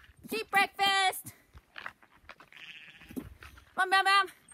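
Sheep bleat loudly in a few wavering calls at feeding time on a farm, with a person calling out between and over the bleats.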